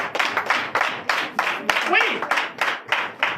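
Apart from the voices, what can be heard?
church congregation applause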